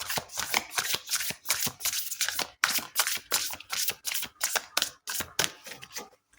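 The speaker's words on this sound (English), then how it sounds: "All right, final shuffle." A deck of tarot cards is shuffled by hand in steady, rapid riffling bursts, each a crisp flutter of card edges repeating over several seconds, close and clear with no voices.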